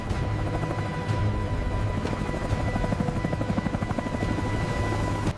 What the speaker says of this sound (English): Transported by helicopter to the sorting center.